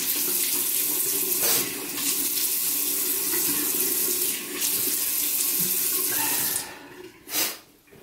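Tap water running steadily into a sink while a face is wetted before a shave with Bay Rum shaving soap, a continuous close splashing hiss broken by a few brief louder splashes near the end.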